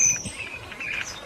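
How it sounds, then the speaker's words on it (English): A blackbird calls in a garden with tree-filled surroundings, thin high chirps over faint background noise for just over a second. "oh, that was a blackbird."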